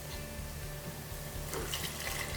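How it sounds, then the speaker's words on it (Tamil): Steady rush of water poured into a cooking pot for noodle soup, continuous and fairly close, with a faint background hum and no voices. "இப்போ இதுல வந்து நம்ம தண்ணி சேர்க்கணும்."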